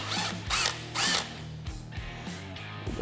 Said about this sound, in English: you'll have to drill the rivets out